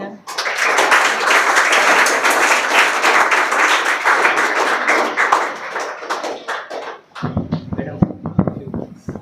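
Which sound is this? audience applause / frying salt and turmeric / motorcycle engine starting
audience applause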